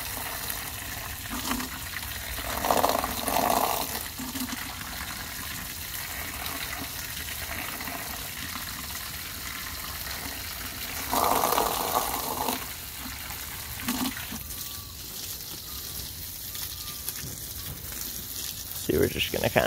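Water sprays from a garden hose onto a tree and surrounding garden plants outdoors, a steady broadband hiss with a few louder gushes, heard under occasional talking.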